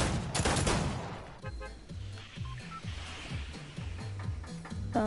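Pistol gunfire in Fortnite: a dense burst of sharp shots up front, then the firing thins out under rhythmic low game music, at moderate loudness.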